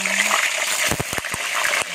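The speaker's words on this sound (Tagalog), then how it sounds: "Ayan po, magprito na tayo ng talong." Steady broadband sizzling and crackling of eggplant frying in hot oil, with sharp pops and spatters bursting through the middle.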